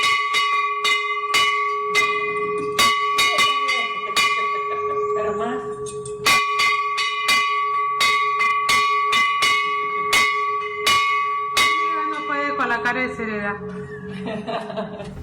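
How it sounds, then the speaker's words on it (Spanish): A bell called the liberty bell rings in steady repeated clangs with a bright, sustained metallic tone, while people talk and chuckle over it partway through. "Esa es la campana de la libertad."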